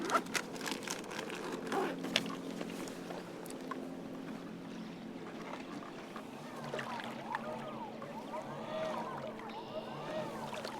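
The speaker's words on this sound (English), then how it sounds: "Pack motor's working out pretty good in these weeds." A kayak trolling motor churns through weedy water, a continuous low hum with rustling, swishing scrapes and light crackles as the weeds catch, steady throughout with brief knocks early on and no talk.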